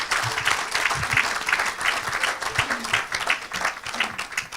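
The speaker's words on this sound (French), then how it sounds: "Acclame." An audience at a live French religious deliverance service claps and cheers in a sustained, loud wave of applause that fills the space, with voices mixed into the crowd noise.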